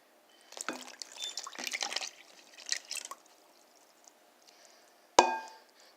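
Pancake batter poured into the middle of a bowl of dry ingredients, a soft thick pouring and dripping for a few seconds, then quiet with a single sharp knock near the end.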